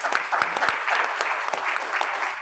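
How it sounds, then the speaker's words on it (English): Sustained applause from a crowd at a Kiwanis Club of Roanoke meeting, dense and steady clapping throughout without any voices standing out. "give yourselves a round of applause"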